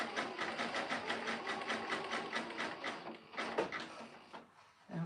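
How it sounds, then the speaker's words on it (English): Sewing machine running a zigzag stitch to join fabric back together, a fast, even mechanical chatter heard close but fairly quietly, slowing and stopping near the end. "it's time to sew it back together"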